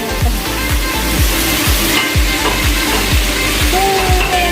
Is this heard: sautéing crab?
yes